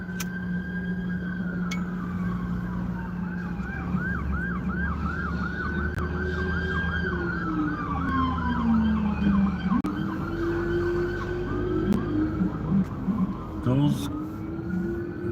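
Police car sirens wailing through a city street, several overlapping rising and falling tones with a fast yelp pattern, moderately close over traffic rumble and passing vehicles, with a person talking underneath.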